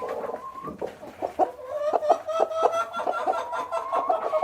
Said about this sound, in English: I have 22 chickens.